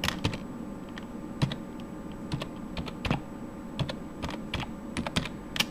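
A name for a memory card is typed on a computer keyboard in a run of quick, irregular keystrokes. The clacks are close and crisp, with a few louder key hits and no talking.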